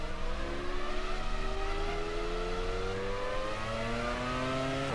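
Formula 1 race car engine in the racing game F1 Challenge 99-02 at Montreal, loudly revving and climbing through the gears toward the rev limit in rising whining sweeps, sustained and close.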